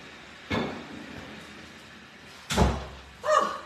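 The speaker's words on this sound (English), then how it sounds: "Let me shut this door." A door being shut indoors: a soft knock, then a louder solid thud a couple of seconds later, followed by a brief clattering knock.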